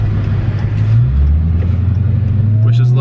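A supercharged Dodge Hellcat widebody engine rumbles loud and close, its pitch rising as it revs and holds a deep steady drone, with voices faintly present.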